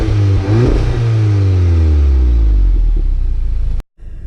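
A Cobb-tuned 2015 Volkswagen Golf GTI turbo engine revs up sharply, then the pitch falls away slowly as the revs drop, ending with an abrupt cutoff and a brief quiet before a faint restart of sound.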